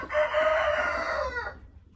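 A crossbreed hen sired by an Araucana rooster gives one drawn-out, loud, harmonic call after laying an egg, close by, fading at the end, with no one talking.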